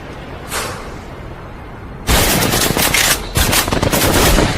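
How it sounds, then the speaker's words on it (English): Loud, close gunfire rips out in rapid machine-gun bursts, with a single shot at first and then a dense, sustained volley broken by a brief pause. "47-year-old Huey Newton died in a hail of gunfire this morning."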